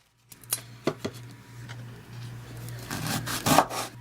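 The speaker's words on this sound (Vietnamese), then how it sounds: "Còn phần đuôi sả thì đập dập ra." Lemongrass stalk ends being smashed on a wooden board, with a few dull knocks and then louder scraping and rubbing thumps, close up over a faint steady hum.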